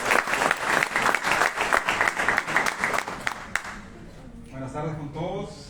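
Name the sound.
audience applause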